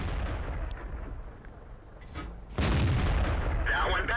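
A tank gun shot ricocheting off a turret in World of Tanks, with a sustained rumbling battle roar and a sudden loud blast partway through, followed by a metallic ringing bounce.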